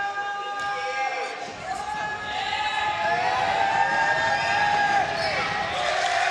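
Crowd at a high school basketball game in a gym between Chaminade College School and Father Henry Carr, cheering and rising in volume beneath a commentator's voice.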